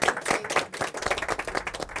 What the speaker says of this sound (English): I think we should just give her a round of applause of appreciation.